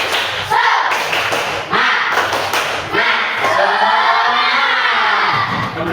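A school class in Indonesia claps out a rhythmic spirit clap together, loud, fast, patterned hand claps with children's shouts and voices mixed in throughout.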